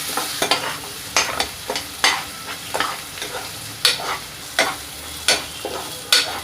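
Onion sautéing over a low flame in oil with ghee for dhaba-style chole, with loud regular spatula scrapes and strokes against the pan over a soft sizzle and no talking.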